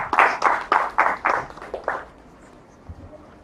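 Clapping at a Zamani Foundation event: about eight even, rhythmic claps, fairly close, then stopping and giving way to a quiet room.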